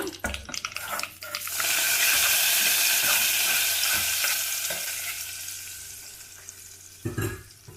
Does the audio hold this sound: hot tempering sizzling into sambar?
yes